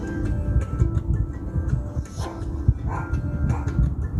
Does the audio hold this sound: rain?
no